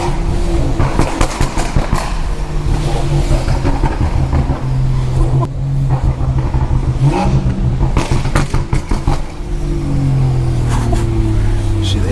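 A straight-piped BMW 340i with the B58 engine revs loudly up close, its exhaust roaring in repeated rising and falling sweeps, with sharp crackles and pops between pulls.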